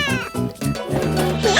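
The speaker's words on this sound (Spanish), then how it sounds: "Miau, miau, miau, miau, miau." A cartoon cat meows five times in a row in a cheerful Spanish children's song about animal sounds on a train, sung over bright backing music.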